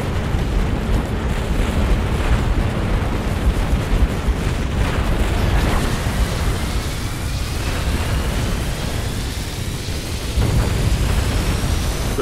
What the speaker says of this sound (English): I'm going to select everything I have and get it to fire at that Scarab.